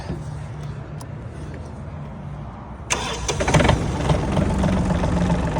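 A Japanese tractor with a rotary tiller is started: an engine cranks and catches about halfway through, then runs steadily and fairly loud close by.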